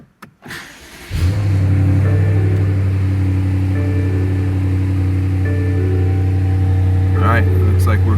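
A BMW M550i engine cranks and fires after an oil change, then settles into a loud, steady idle close to the microphone, with a brief soft chime over the running engine.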